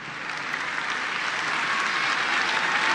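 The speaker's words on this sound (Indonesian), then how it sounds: "kita berikan sekali lagi tepuk tangan yang paling meriah" Sustained applause from a large audience at a national Christmas celebration, a dense, steady wash of clapping that holds evenly loud throughout, with no voices over it.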